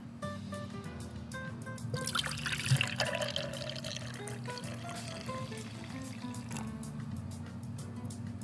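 Fresh squeezed orange juice pours into a glass in a steady liquid trickle that swells briefly, heard close under low background music.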